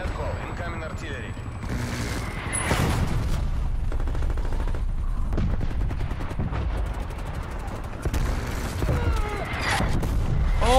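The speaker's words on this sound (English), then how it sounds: "Hostile artillery targeting again. Netco, incoming artillery." An incoming artillery strike in a video game, heavy booms and rattling bursts of gunfire rolling through a busy battle mix, with a person talking over the noise.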